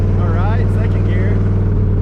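A 1982 Camaro with new exhaust pulls in second gear, a loud steady low rumble with a rising rev sweep early on, close to the car and with no talk over it.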